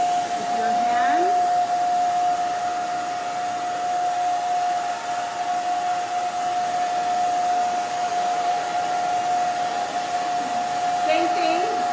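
A hair dryer blows steadily and loudly throughout, drying a pixie cut with back-and-forth hand movements, its whine constant with no talking over it.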